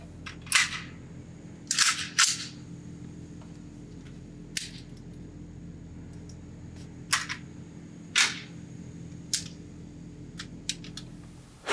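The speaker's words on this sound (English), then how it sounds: "So here we go, the quick magazine change test, and just seeing how fast I can shoot it in small bursts." A CMMG Mk4 Dissent rifle fires at a range in quick small bursts: sharp, loud cracks come singly and in tight pairs, separated by short pauses.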